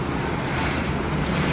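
Strong wind and heavy rain during a storm in Karachi, a steady loud broadband roar with gusting wind buffeting the microphone, sounding continuous and close for a brief moment with no voices.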